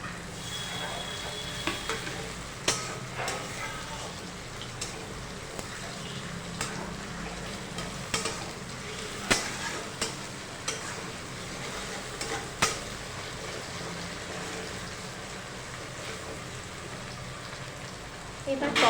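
Chopped tomato frying over onions in a pan, a continuous rain-like sizzle broken by sharp spatula scrapes and clicks at irregular intervals, with no one talking.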